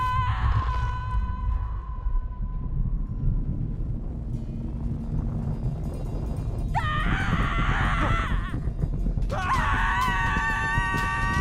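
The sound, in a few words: screaming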